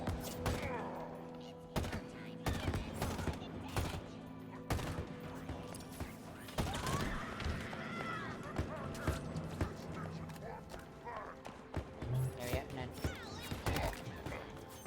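Gunfire from a kinetic weapon in the video game Halo Infinite, with sharp repeated shots and thuds in an irregular rhythm amid game sounds, while a player talks throughout.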